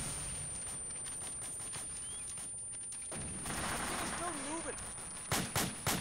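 Distant gunfire in the Arma 2 video game crackles faintly under a steady background hiss, ending with a few louder, sharper shots, while voices talk over the scene.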